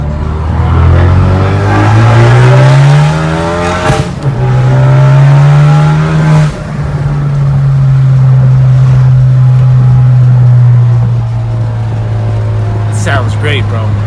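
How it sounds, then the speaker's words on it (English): A Kia Forte Koup SX engine revs hard through a long second-gear pull, its pitch climbing steadily with a brief dip at a shift, loud and close throughout. "So let's get a second gear pull here."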